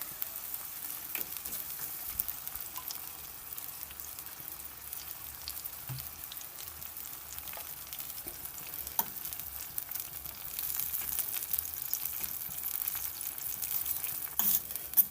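Glazed tin mackerel fries in a pan with sweet pepper, tomato, onion, garlic and hot pepper, giving a soft steady sizzle with scattered crackles and pops, slightly louder toward the end.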